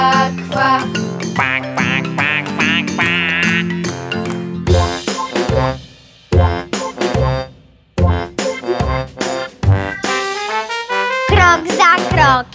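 Cartoonish duck quacks sung within a Polish children's song, repeated in rhythmic bursts over bright music with a voice, loud and continuous throughout.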